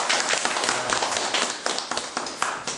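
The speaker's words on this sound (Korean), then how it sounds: "자축의 박수를." A room of people claps together to celebrate everyone in their group passing the Level 2 fire safety manager certification: a dense, steady patter of many hands, close and fairly loud, with no talking over it.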